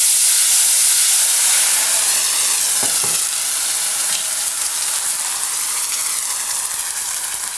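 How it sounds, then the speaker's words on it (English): Vegetables fry in rendered lamb fat in a hot pan, giving a loud, steady, close sizzle with a bright hissing crackle that runs continuously and fades only slightly toward the end, with no talking. "And now this will both sizzle and smoke."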